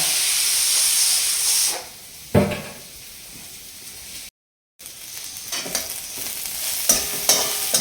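Chopped onions fry in an oiled pan with a steady, close sizzling hiss and occasional stirring scrapes, cut by a brief dropout to silence midway. No one speaks.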